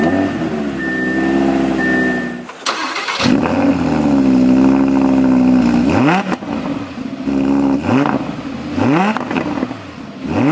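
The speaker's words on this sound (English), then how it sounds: "On the right side, we have the red engine start stop button. So with my foot on the brake, let's go ahead and bring it to life." A 2020 Audi R8 V10 Quattro fires up with a loud starter-whirr flare, then settles into a strong idle broken by several sharp, rising revs that drop back each time.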